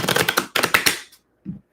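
Tarot cards shuffled by hand, a quick rapid riffle of crisp flutters in two bursts, then a soft tap as the deck settles, close and clear.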